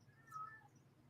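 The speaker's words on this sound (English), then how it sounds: "You might hear my cat meowing again because that's what my cat loves to do." A single short cat meow, fairly faint and somewhat distant, over a quiet background hum.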